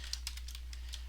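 A handful of quick keystrokes tapped out on a computer keyboard while entering a short command, crisp isolated clicks with small gaps between them, close and fairly quiet over a steady low hum.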